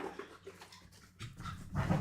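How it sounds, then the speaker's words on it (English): An excited dog whimpers and yelps in short bursts while scrambling around indoors, the sounds close, uneven and growing louder toward the end. "my dog Finn is freaking out"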